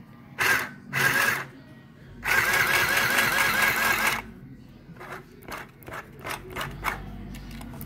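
A sewing machine stitches back and forth over the same seam on a fabric tote bag: two short whirring bursts, a longer steady run, then softer, quicker taps, close and loud.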